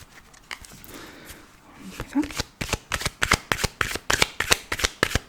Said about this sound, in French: l'oracle des amoureux de Tony Carmine Salerno pour la petite carte de l'amour pour la journée.